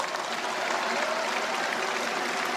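Steady, dense applause from a large audience at a formal South Korean ceremony with an International Olympic Committee member present, sustained evenly throughout without pause.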